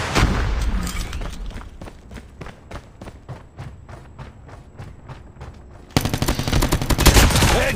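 Gunfire in Call of Duty: a steady run of rapid automatic shots over a loud game background, ending in a sudden louder burst of heavy firing and explosions, with no voices.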